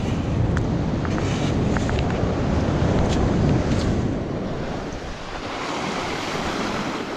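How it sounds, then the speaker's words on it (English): Ocean waves break and wash steadily onto a California beach, a loud continuous roar of surf with wind buffeting the microphone. "Dealing with some waves."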